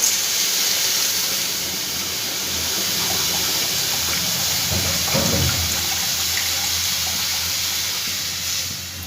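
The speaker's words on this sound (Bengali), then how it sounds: "এবার এর মধ্যে আমি পরিমাণ মতন জল দিয়ে দেবো সেদ্ধ হওয়ার জন্য ডালটা" Water pours steadily into a pot of mung and masoor dal set to boil, a constant rushing hiss with a brief louder splash midway before it tapers off.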